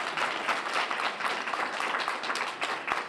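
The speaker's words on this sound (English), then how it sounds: "Give our panelists, please, another round of applause" An audience at an HBCU Week panel event applauds the panelists, a moderate, continuous patter of many hands clapping at a medium distance throughout.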